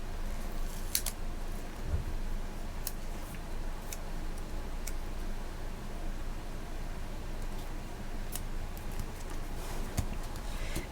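Scissors cutting through a paper box, close and fairly quiet, with scattered sharp snips at irregular intervals over a steady hiss of room noise.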